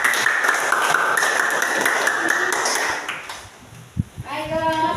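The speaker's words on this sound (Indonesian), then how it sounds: "Kita berikan tepuk tangan dulu." Students in a university classroom applaud with a burst of dense clapping lasting about three seconds, then it thins out as a few taps and talking follow.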